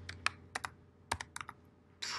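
Quick bursts of keystrokes on a computer keyboard as a sports card's player name is typed, irregular clicks with short pauses, ending in a brief cluster of keys.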